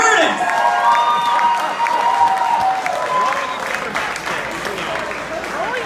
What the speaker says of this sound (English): Make some fucking noise. Clap for these people.